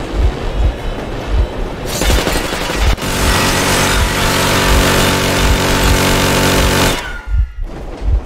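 Warning gunfire in Metro Exodus rattles loudly in a dense sustained burst, heavy rapid shots layered over a low rumbling engine, cutting off abruptly near the end.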